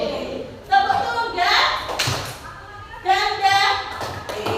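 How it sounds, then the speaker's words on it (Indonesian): A class of children claps in a few short bursts of sharp hits while their voices chant and call out loudly over and between the claps. "Tepuk tangan"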